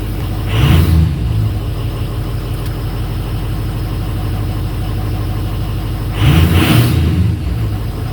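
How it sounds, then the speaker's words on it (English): A Ford 6.0 Powerstroke diesel truck engine idles at close range with a steady low rumble, broken by two brief louder surges. "Look at that, running truck."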